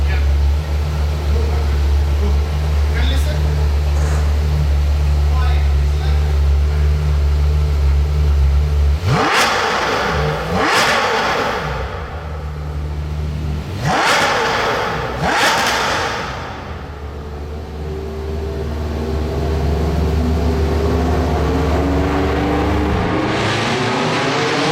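A Porsche Mirage GT, a modified Carrera GT, with a V10 engine idles deeply before three sharp, loud revs rise and fall between about nine and seventeen seconds, then settles back to a steady rumble.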